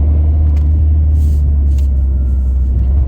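A car drives along with a steady, loud low engine rumble and road noise filling the cabin, continuous throughout a few seconds with faint higher rattles above.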